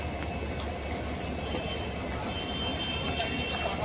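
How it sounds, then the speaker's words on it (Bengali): A train rolls steadily along the rails during a journey through hilly country toward a station, a continuous close rumble of wheels with faint squeal tones above it. "আওয়াজ দেখো ট্রেনের"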